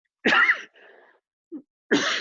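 Two loud coughs into an elbow, a sharp burst at the start and another near the end, with a few softer throat noises between them and no talking.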